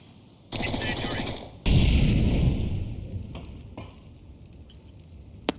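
An incendiary grenade in Counter-Strike 2 bursts with a loud whoosh, then burns with a crackling sizzle that slowly fades, alongside brief game sound effects.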